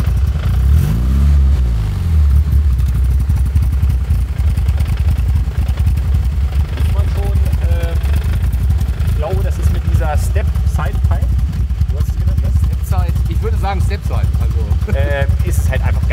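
An Opel Rekord engine revs and then settles to a steady idle, loud and close throughout, with people talking over it.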